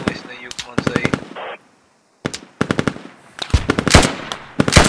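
Bursts of automatic rifle fire from infantry combat in the video game Squad, rapid rattling volleys broken by a short pause. Voices talk excitedly over the shooting.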